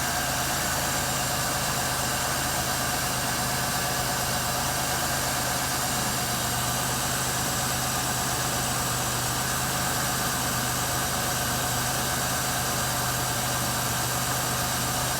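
A 2003 Pontiac Grand Am engine idles steadily with a constant low hum and whirring fans as the AC compressor cycles, no talking over it.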